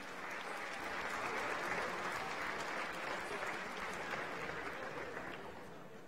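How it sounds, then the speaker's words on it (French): Guests at an elegant green-and-white ball applaud together, a soft, distant wash of clapping that swells early, holds, then slowly tapers over six seconds. "On l'applaudit."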